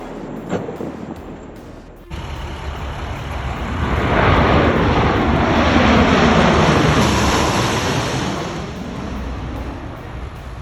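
An airplane engine drones loudly on the plane's first flight, its roar building and sweeping past before easing slightly, close and continuous.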